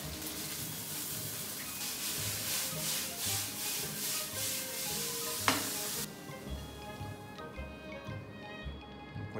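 Yakisoba noodles frying in a pan, a steady sizzle with rhythmic stirring and scraping strokes, a sharp clack midway, then quieter sizzling with repeated scraping; no talk.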